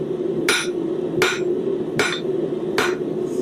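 A hammer strikes metal while a corkscrew is being forged, landing four sharp, evenly spaced ringing blows close by over a steady background hum, with no talking.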